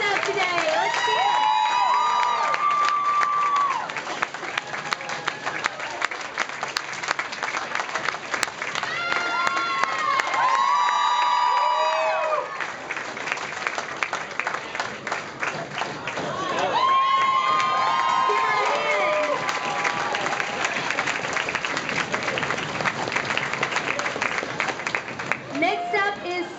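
A crowd at a Locks of Love hair-donation event cheers and applauds in loud surging waves, with clapping, whoops and children's high shouts throughout, swelling and easing several times.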